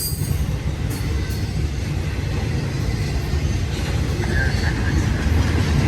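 Long BNSF freight trains with piggyback cars rolling past on a three-track main line, a loud, close, continuous rumble of rail cars with faint wheel squeal and clatter, a voice talking over it.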